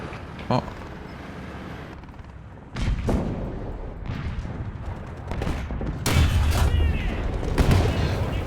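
Heavy booming shots from an ISU-152 tank gun firing at a Sherman in a tank video game, several loud blasts and impacts spread over the clip amid rumbling battle noise.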